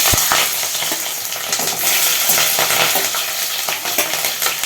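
Onion frying in hot oil in a pan for a Telugu-style okra (bendakaya) fry, a steady close sizzle with scattered clinks and stirring scrapes of a utensil, no talk.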